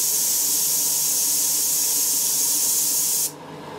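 An airbrush with its tip removed blasts paint out to clear the nozzle, a loud, steady hiss that runs for about three seconds before cutting off abruptly to a quieter background.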